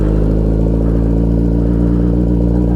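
Loud, even idle of a Suzuki Hayabusa sport bike engine, a sustained low throbbing drone held close up for a few seconds without any talk.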